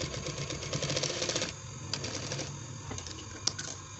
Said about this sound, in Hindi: ये मैं जल्दी जल्दी से सिलाई करता हूँ